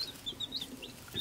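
Week-old baby chicks from a hatchery peep softly in short, high, repeated cheeps over a low background hum, faint and fairly close.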